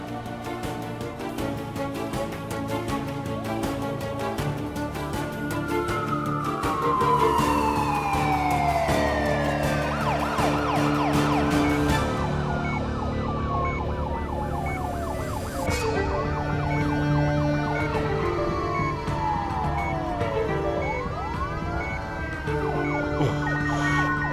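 An ambulance siren wails continuously with rising and falling tones over steady traffic rumble, loud and close throughout.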